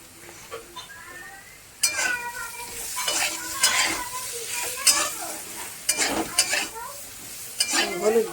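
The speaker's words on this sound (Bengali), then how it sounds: "আলুটা বেশ হালকা ভাজা ভাজা হয়েছে" Small potatoes fry with turmeric in a pan, giving a soft sizzle under repeated sharp scrapes and clinks of a metal spoon stirring against the pan, close and irregular.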